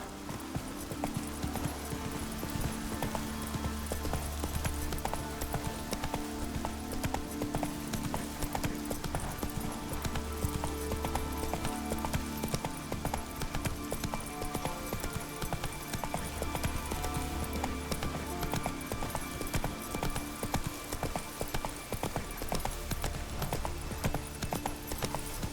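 A horse gallops in The Witcher 3: Wild Hunt, its hooves beating a steady, rhythmic clip-clop throughout over continuous game music.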